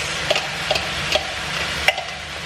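Bean sprouts and green beans stir-fry in a pan for crispy lumpiang togue, with a soft sizzle broken by four distinct sharp clacks of a utensil against the pan.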